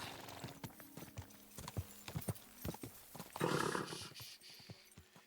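A horse's hooves clip-clop in quick, uneven beats in the video game Kingdom Come: Deliverance 2, with a brief burst of whinnying partway through; the whole thing sounds somewhat artificial and fairly quiet.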